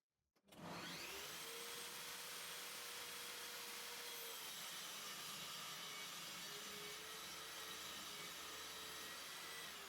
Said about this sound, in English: I'm cutting into the sled, but not all the way through